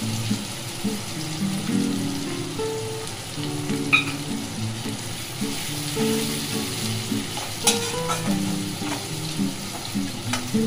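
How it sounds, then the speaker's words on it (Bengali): Two large chopped onions fry in a pan for Bengali-style mutton kosha, giving a steady close sizzle with occasional stirring scrapes, and no voices over it. "এবার এটাকে আমি একটু লাল লাল করে পেঁয়াজটাকে ভেজে নেব।"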